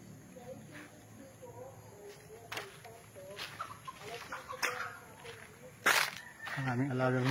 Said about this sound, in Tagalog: Ang aming alagang manok.